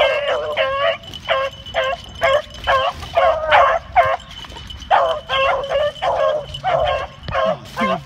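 Repeated yipping barks from beagles running a rabbit, in quick bursts, sounding excited and fairly close, with short gaps between rapid volleys.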